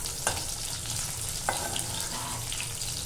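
Potato pieces, cut crosswise and lengthwise, frying to a red-brown in a pan for a Bengali-style fish curry; a steady close sizzle with a few sharp clicks of stirring.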